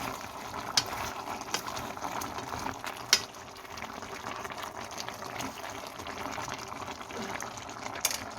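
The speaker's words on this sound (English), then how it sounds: "After 30 minutes boiling." A pot of Korean chicken stew, dakdoritang, with carrots and potatoes bubbles and simmers in a steady, soft, continuous boil with occasional small pops.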